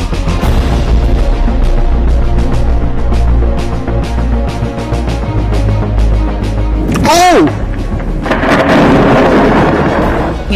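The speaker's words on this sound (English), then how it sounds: "It's been mayhem trying to get anywhere across Melbourne this morning after a fierce lightning storm." Thunder from a fierce lightning storm over Melbourne rumbles low and steadily, a sharp crackling crash breaking in partway through, with rain noise thickening afterward.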